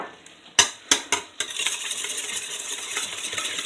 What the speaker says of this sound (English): We're going to get this whisked up right away.